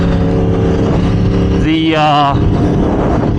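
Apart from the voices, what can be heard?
2022 Yamaha R1M motorcycle accelerating 60 to 130 in power mode 2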